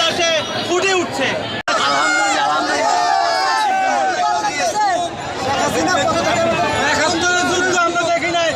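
A huge crowd celebrates in the streets after the fall of a government, a loud, dense roar of cheering and overlapping shouting voices that carries on steadily and breaks off for a split second near the start.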